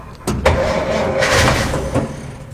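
Ford Anglia E494A engine cranking on choke, with a few sharp starter bursts and uneven turning over that builds into rough, loud catching, close by with no talk.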